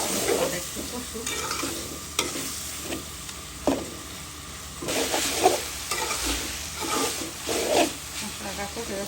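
Spice paste of ground coriander, turmeric and chili with a little water cooks down in a pan with dried loitta fish, hissing and crackling close up, broken by a few irregular stirring scrapes.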